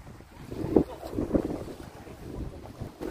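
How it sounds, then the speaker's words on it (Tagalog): Gusty wind buffets the microphone in uneven bursts while fishing on Hänö, Sweden, with faint background noise and no clear voices. "Hangin-hangin lang guys, no?"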